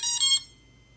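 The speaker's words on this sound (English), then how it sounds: "That's how it does sound when flight controller is not being powered." Drone ESC emitting a short series of high electronic beep tones while its flight controller is unpowered, clear and close, lasting under half a second and then cutting to near silence.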